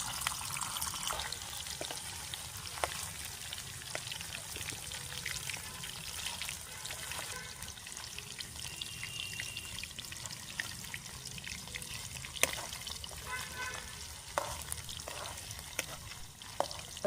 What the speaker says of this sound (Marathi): कढईमध्ये तेल. आता हे पनीर तळून घेतो.